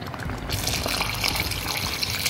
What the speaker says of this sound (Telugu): మంచి కలుపుకున్న తర్వాత వాటర్ వేయండి.